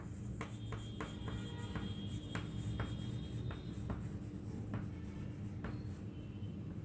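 Chalk or marker scratching across a board in short strokes and taps while a battery's voltage rating is written out, a faint low room hum beneath.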